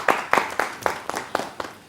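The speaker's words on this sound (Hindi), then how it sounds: "इनके लिए जोरदार तालियां हो जाए" Audience in a small hall clapping in a sparse, rhythmic pattern, about eight distinct claps over two seconds, fairly close and moderately loud, with no voices over them.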